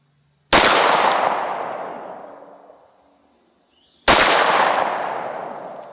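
Two loud pistol shots from a handgun fitted with a red dot sight, each a sharp crack followed by a long fading echo across an outdoor range, about three and a half seconds apart.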